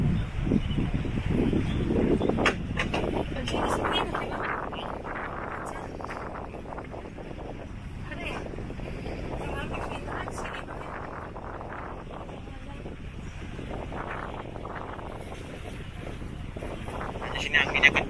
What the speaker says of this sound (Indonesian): Di sini anginnya kencang sekali.